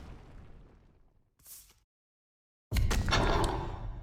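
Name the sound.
artillery cannon blast in a Horus Heresy video game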